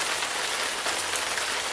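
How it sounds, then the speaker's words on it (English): Heavy rain pours down a square rain chain on a log cabin, a steady dense wash of water streaming and splashing, continuous and close with no voices. "Look at that water H2O going down."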